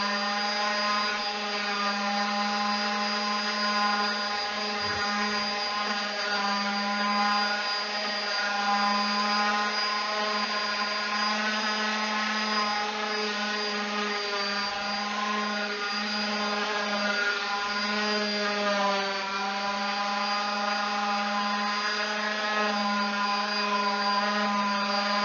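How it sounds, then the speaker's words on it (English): A power sander runs steadily across the grain of a wooden coffee nook piece, a loud, constant whine that holds without a break throughout. "cross grain sand the other side"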